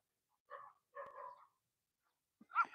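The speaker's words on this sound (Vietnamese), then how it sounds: "Rồi con chó nó thấy chị rồi, nó phát hiện ra chị rồi, nó sẽ sủa cho bà coi." Dog giving a few faint, distant barks and yips, two short calls followed by a sharper one after a pause, in otherwise near-silent surroundings.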